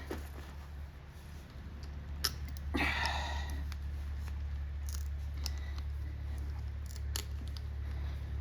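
Snips cut through 16 gauge sheet steel for a patch panel on a 1964 Chevy Impala front fender, with sparse, sharp clicking cuts heard faintly over a steady low hum in a workshop.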